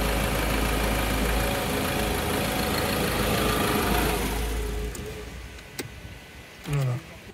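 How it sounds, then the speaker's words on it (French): A Ford Ranger 2.2 TDCi diesel from 2012 idles just after starting, a steady low rumble with slight knocking that fades partway through, followed by a few sharp clicks and a brief quiet voice. "Je mets le contact, j'attends que ça préchauffe le moteur."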